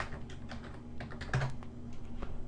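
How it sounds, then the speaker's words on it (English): Quick, uneven clatter of keys on a computer keyboard as a search is typed, close and fairly quiet, with a low steady hum underneath. "I'm just gonna type in blood splat."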